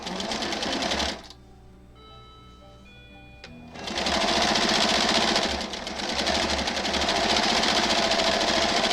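A sewing machine stitches a Broken Dishes quilt block with a loud, fast, continuous whir, stops briefly for a quiet pause with faint tones, then starts again and runs steadily close by.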